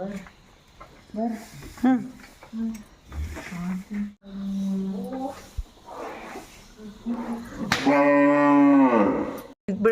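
Sahiwal cattle, including calves, low and moo nearby in a cowshed, with a long loud bellow near the end, mixed with people talking.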